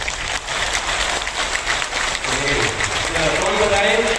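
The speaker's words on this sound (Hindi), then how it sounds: "एक बार दोनों हाथ ऊपर करके ताली बजाते जाते।" An audience claps steadily with both hands raised, a dense, continuous patter of many hands at a training academy gathering, with voices mixed in.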